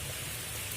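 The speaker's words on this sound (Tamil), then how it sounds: "மழையை பாருங்கள், மழை எவ்வளோ மழை பெய்கிறது பாருங்கள்." Heavy rain with hailstones falls in Chidambaram, a steady dense hiss of downpour on surfaces, continuous and fairly loud throughout with no individual hail impacts standing out.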